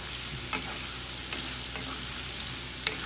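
Cucumber pieces with ginger-garlic paste sizzle steadily in a pan, with a soft, even hiss and a few faint scrapes and clinks from stirring. The sound is moderately quiet and has no talk.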